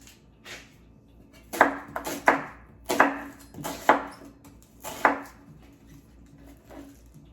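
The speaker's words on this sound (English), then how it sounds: "go ahead and cut up some more of my lemon. I'll go ahead and get some more of this onion" A knife chopping lemon and onion on a cutting board, a series of about eight crisp, close thuds in an uneven rhythm, with quiet gaps between the cuts.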